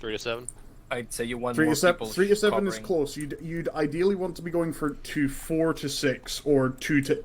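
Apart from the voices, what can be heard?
No distinct noise like a dog, phone or traffic.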